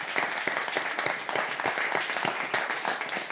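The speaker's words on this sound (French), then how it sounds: "On applaudit Marie et Gilbert brillamment." A studio audience on a French comedy broadcast gives Marie and Gilbert a steady burst of clapping, dense and even throughout, moderately loud and heard alone without talk.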